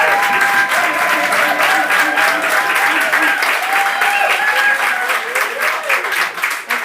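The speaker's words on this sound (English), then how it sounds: "So if you are for the motion, please clap now." Loud, dense clapping fills the room as the audience at a climate debate votes for the motion, with whistles and cheers cutting through the continuous applause before it thins slightly near the end.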